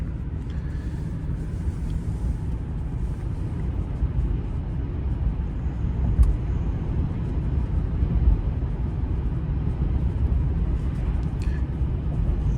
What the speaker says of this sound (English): You might be hearing a little bit of wind noise.